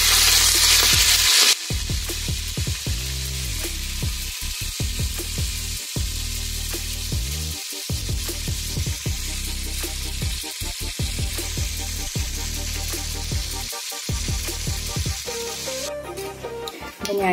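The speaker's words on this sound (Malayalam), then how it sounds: "ഞാനിത് വറുത്ത് കോരുമ്പോഴത്തേക്കും എൻ്റെ കിസ്മിസ് വറുത്തെടുത്ത് വെച്ചിട്ടുണ്ട്" Raisins fry in ghee for a semiya payasam, a loud, crackling sizzle that runs continuously, broken by the scrape and clatter of stirring in the pan.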